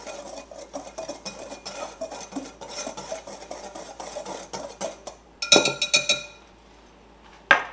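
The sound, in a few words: mixing dry crumble ingredients with salt in bowl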